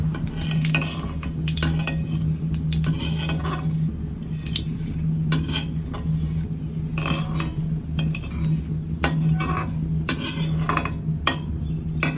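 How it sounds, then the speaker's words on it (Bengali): Cumin seeds tempering in hot oil for a Bengali tengra fish curry, heard as a steady low sizzle with scattered metallic clinks of a utensil against the pan throughout. "এখানে আমি জিরা ফোড়ন দিয়েছি"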